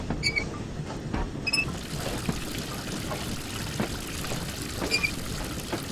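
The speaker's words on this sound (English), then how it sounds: "We've got water going in." Water pours and trickles steadily into the tank of a Peppercorn K1 steam locomotive in Train Simulator 2016 at the Dellyn Heritage Museum, a continuous splashing flow with a few faint clicks and tones in the first seconds.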